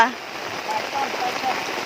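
Rain falls steadily on the Songkhram River in Thailand during a fishing trip, making an even, close hiss with no breaks.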